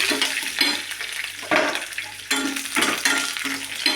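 Curry leaves frying in hot oil for a village-style ridge gourd chutney, a steady close sizzle with a stirring spoon scraping the pan at intervals, no voices.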